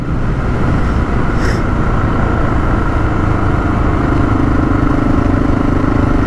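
A Honda XR650L on knobby tires rides along with a loud, steady engine drone and constant rushing wind noise close to the mic throughout.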